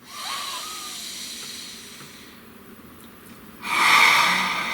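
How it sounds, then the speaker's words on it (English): A slow, deep breath drawn in and let out close to the microphone, a long soft airy inhale followed by a louder, rushing exhale, alone in a quiet room. "Please take a nice deep breath"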